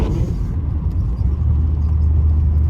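A BMW 316i drives along with a steady low engine rumble and road noise from inside the cabin, droning evenly throughout.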